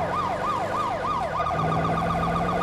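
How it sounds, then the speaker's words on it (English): A police vehicle's siren wails in a GTA 5 game, loud and continuous, cycling through a rising-falling pattern before switching to a faster yelp, with a steady engine drone underneath. "So many different sirens on this vehicle, too."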